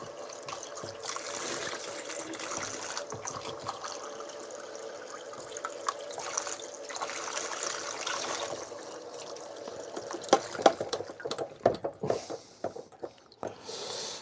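Tap water running and trickling into a container for watercolour painting, a soft continuous splash that turns into louder gurgles and drips near the end, no talk.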